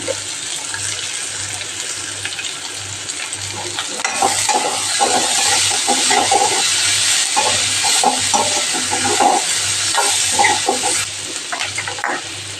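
Onions sizzle and fry loudly in a hot pan while being prepared for paratha masala, a steady crackling hiss with occasional stirring scrapes, growing busier partway through.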